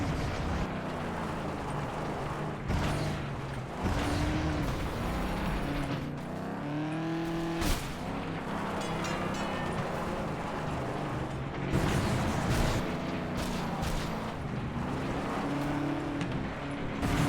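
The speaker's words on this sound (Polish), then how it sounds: "Ślizga mi się ten samochód coraz bardziej, ale wymaksowany już jest" Race car engines roar through a derby-style race in the video game FlatOut 2, with revving that climbs and drops through gear changes, loud near-field engine noise, bursts of crashes and clatter, and passing cars throughout.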